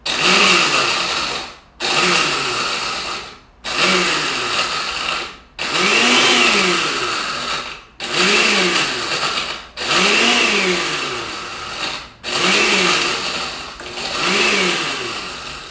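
A blender pulsed in repeated bursts to mix cheesecake batter, about eight loud whirring runs of roughly two seconds each, with the motor rising and falling in pitch and short silent gaps between them.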